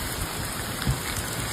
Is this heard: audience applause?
no